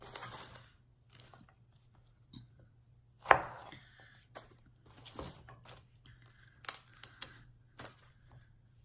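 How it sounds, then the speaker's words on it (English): A knife chops food diagonally on a board in a quiet room, with a scattering of sharp, irregular taps that include one louder strike and several softer cuts, and no voices. "I like to cut it kind of like diagonally because it just looks better that way when you fry it"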